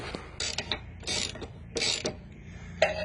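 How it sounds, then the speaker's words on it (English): A ratchet wrench spins cab body mount bolts on a Ford Super Duty during a silicone body mount install: four quick bursts of rapid clicking, each about half a second long, separated by short pauses, up close. "The bolts are just tightened a few turns to keep it loose for when I flip this side up."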